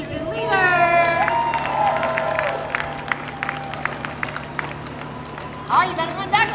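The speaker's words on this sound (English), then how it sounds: "One more round of applause for our 2025 student leaders." Crowd applause and cheering for student leaders at a University of Akron marching band family and friends performance, clapping and whoops over crowd murmur, with a low steady hum beneath and a brief burst near the end.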